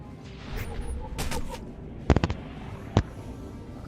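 Sniper fire in Star Wars: The Old Republic: a quick burst of three sharp cracks followed by a single shot, crisp and moderately loud over a low game ambience.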